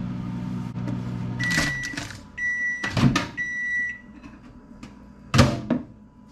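A microwave oven heating a burrito hums low, with electronic beeps and a few clunks of its door opening and closing.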